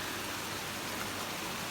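Torrential rain pours down outside at night during a gale, a dense, steady hiss filling the whole clip without a break, no voices over it.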